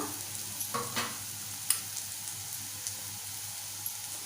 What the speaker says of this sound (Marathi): एक चमचा मालवणी मसाला परतून घेऊया मसाले छान मिक्स करून घ्यायचे